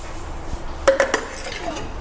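A metal spoon scoops liquid nitrogen over an iPhone 8, giving a few quick close clinks and scrapes against a hissing, quiet background.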